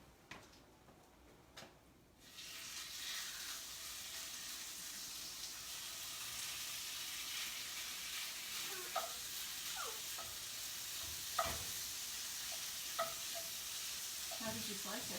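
Thin strips of top sirloin sizzle in a pan, a steady, fairly quiet frying hiss with occasional stirring clicks and scrapes and no talking.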